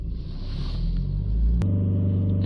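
A BMW 318d diesel engine with an EGR air mass fault revs up to a loud throbbing rumble, then the throttle is released and the engine note drops back steadily, close by.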